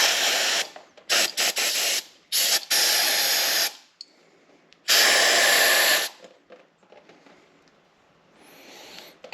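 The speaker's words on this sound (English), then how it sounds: "Let's just at least spray that out a bit." Aerosol cleaner hisses in short bursts and one longer spray into a gunky Subaru EJ25 engine part holding an O-ring, loud and close, with quiet handling noises in between.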